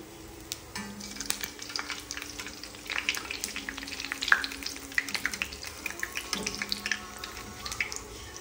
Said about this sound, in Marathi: आता मी वडे सोडलेत कढाईत.